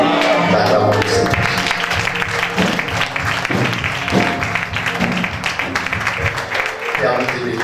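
A church congregation in Benin applauds the Lord, with steady loud clapping and crowd noise throughout, mixed with music and voices.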